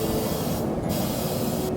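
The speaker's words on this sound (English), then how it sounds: "So I'm just going to go ahead and spray it." Hairspray sprayed onto hair to slick it back, a steady broadband hiss lasting nearly two seconds with a brief dip in the middle, loud and close with no talking.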